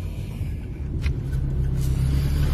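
A tuned 400 horsepower BMW M235i engine drones with a deep, steady rumble, heard close as if from inside the cabin, with a couple of faint brief clicks over it.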